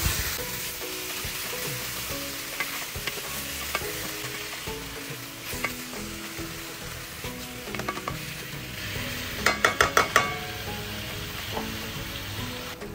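Half a kilo of pork belly sautéing in a pan, a constant close sizzle with scattered pops and a brief burst of sharp clinks near the end.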